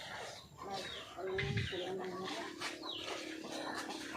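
Farm chickens cluck and call in a yard in rural Zambales, moderately near, with a low grunt-like sound among them and people talking in the background.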